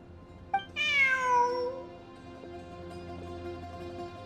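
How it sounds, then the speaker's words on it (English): A cat in a video game gives one clear, drawn-out meow that rises then falls, heard close over a quiet steady game background hum. "Look, a cat."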